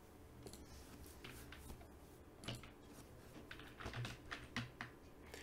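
Someone types code on a computer keyboard, giving quiet, close, irregular clicks in short bursts, with no talking.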